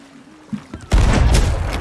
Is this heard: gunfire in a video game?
yes